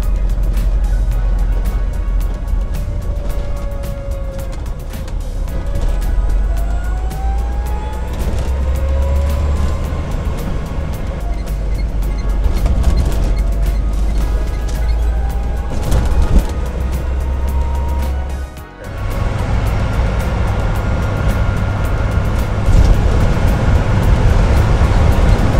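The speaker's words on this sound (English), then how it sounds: "We're gonna take the Twizy for a nice drive." Renault Twizy electric car with a DIY battery upgrade and remapped motor driving along, with a steady low road rumble, faint rising and falling motor whine, and a brief dip before the noise resumes.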